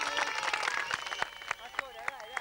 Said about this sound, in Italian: Forza, l'applauso, padre